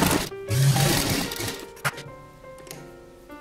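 A sewing machine runs a short whirring burst while stitching along two sides of a doubled fabric strip for a boat-neck kurta, followed by a few soft clicks and handling noises close by.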